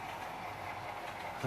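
A freight train with ore loads passes, rumbling steadily with a continuous rolling rail noise, fairly close and even in level throughout.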